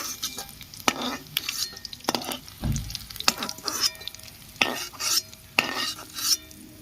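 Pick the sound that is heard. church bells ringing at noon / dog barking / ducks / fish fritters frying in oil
fish fritters frying in oil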